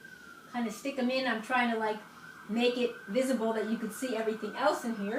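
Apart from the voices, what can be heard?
ambulance siren passing outside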